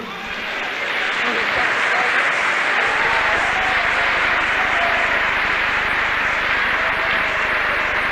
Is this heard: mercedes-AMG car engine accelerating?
no